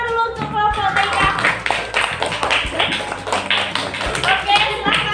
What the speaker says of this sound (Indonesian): tepuk tangan dulu untuk kelompok Taika